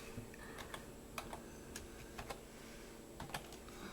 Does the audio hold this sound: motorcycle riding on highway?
no